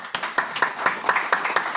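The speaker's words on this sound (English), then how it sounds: "Let's give them a round of applause, please." Small audience clapping for panelists after an America's Rental Housing 2024 report, a sparse handful of distinct claps in a rough rhythm, close and clear.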